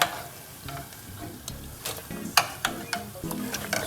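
Ravioli frying in hot oil on a stove, a soft continuous sizzle broken by scattered pops and crackles, close and fairly quiet.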